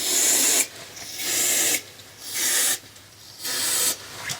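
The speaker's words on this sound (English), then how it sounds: "silicone spray." Silicone spray hisses from an aerosol can in four sharp, bright bursts of about a second each, separated by short silent pauses, close and loud.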